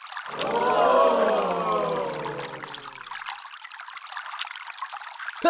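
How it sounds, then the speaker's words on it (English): Water pours into a toy LEGO fire truck with a rising, gurgling tone as it fills, followed by a faint trickle and hiss. "Let's fill the water into it."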